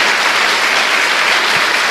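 Loud, dense applause from a church congregation praising Jesus during a sermon, a continuous close wash of clapping with no break and no voices.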